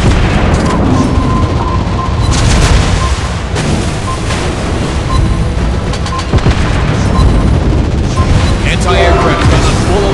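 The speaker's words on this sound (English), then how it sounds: "Anti-aircraft gun on full alert!" Anti-aircraft guns firing in World of Warships Blitz, a loud, dense barrage of booms and rapid gunfire filling the whole stretch with little letup, with game voice callouts mixed in.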